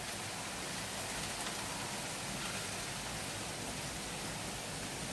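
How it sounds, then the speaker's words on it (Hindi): Heavy rain in a garden, a dense even hiss of falling water with no distinct drops standing out, steady and constant throughout. "कहते कहते कितने तेज बारिश होने लगी है।"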